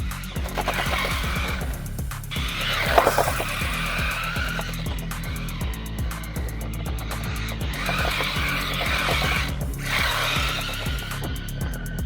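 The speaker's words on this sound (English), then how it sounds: "You can drift around the way it is out the box with the street tyres." Small JJRC Q117 E 1/16-scale RC drift car sliding on street tyres, a buzzing electric motor that revs up and down in repeated bursts with scrubbing tyre noise, moderately close, no voices.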